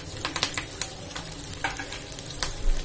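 Whole garlic cloves, green chili, onion pieces, ginger and curry leaves frying in a pan for paneer kofta curry, a steady sizzle with stirring clinks and scrapes, close and moderately loud, no talking.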